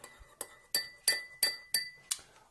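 A spoon clinks against a glass cup while stirring coffee, seven bright, evenly spaced ringing taps, close and clear with no voices.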